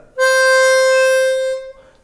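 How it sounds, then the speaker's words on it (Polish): A single sustained harmonica note, C, blown on the fourth hole, rings out clear and steady for about a second and a half, close and loud with no voices, then drops off. "Czwarty kanał na wydechu, dźwięk C."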